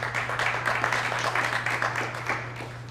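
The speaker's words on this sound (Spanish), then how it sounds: "Muchas gracias y un aplauso para él" An audience claps for a speaker at a talk, a dense patter of hands that is moderately loud and fades slightly toward the end over a steady low electrical hum.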